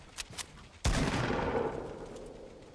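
Gunfire in a Fortnite match: a couple of faint distant shots, then a sudden loud burst of gunfire that rings out and slowly fades.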